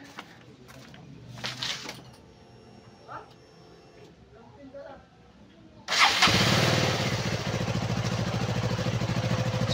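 A KTM Duke 200 motorcycle, recently repaired for a leaking fuel pump hose, cranks and fires up on the first press after several seconds of quiet background noise, then settles into a loud, close, steady running rumble.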